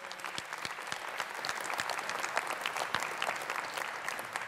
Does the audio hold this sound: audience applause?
yes